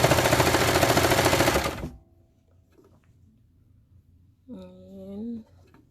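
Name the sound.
Baby Lock Victory sewing machine running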